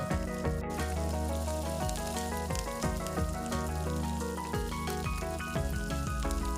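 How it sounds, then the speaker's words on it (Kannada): Garlic fries in hot oil for a tempering in a Kannada home kitchen, a steady close sizzle and crackle running throughout with no one talking. "ಬೆಳ್ಳುಳ್ಳಿ ಎಲ್ಲ ಘಮ ಬಿಡೋ ತನಕ ಒಗ್ಗರಣೆಯಲ್ಲಿ 2 ರಿಂದ 3 ನಿಮಿಷ ನೋಡಿ ಫ್ರೈ ಮಾಡ್ಕೊಬೇಕು"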